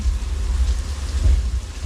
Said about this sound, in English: rain is created by sprinklers just above you